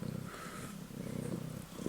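A cat purrs in a steady, continuous low rumble close by, quiet and unbroken, with no voices over it.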